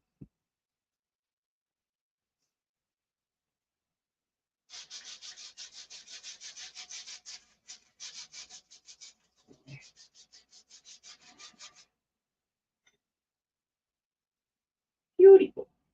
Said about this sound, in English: So let's sand it with 400 now.